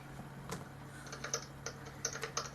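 Quiet keyboard typing, scattered key clicks in uneven bursts against a steady low hum, with no one talking.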